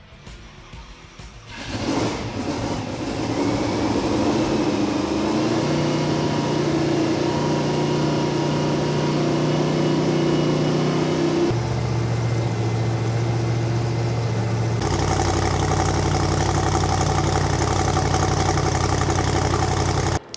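A drag race car engine is started and settles into a steady, loud idle with humming tones that shift in pitch a couple of times, running alone without talk.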